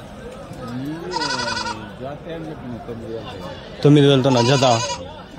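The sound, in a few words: male goats bleating at a goat market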